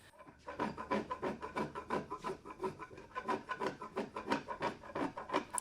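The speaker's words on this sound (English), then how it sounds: "spoke shave these nice and smooth" A spokeshave smooths a bandsaw-cut curve in Texas pecan wood for a sleigh bed panel, giving a rhythmic series of quiet rasping strokes, roughly two per second, close and fairly faint.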